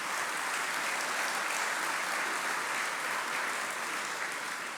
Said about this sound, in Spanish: les pido un aplauso nuevamente para Marcos